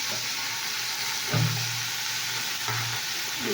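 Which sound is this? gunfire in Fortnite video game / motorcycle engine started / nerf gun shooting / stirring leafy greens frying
stirring leafy greens frying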